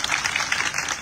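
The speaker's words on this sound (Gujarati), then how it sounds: "આ તાળીઓ એના માટે છે તાળી પાડો" A crowd at a women workers' rally in Gujarat claps, a brief, even burst of many hands applauding together with no pauses.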